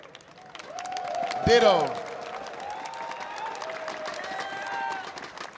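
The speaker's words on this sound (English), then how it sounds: "clap it up for my mans" Crowd applause and cheering fill a large arena at the Evo fighting-game tournament, building then holding under a speaking voice and a brief rising whoop.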